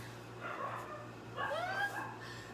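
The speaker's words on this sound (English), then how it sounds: "I'm sorry if you can hear dogs." Several dogs yip, whimper and bark in the distance, a faint, irregular run of calls rising twice over a steady low hum in the room.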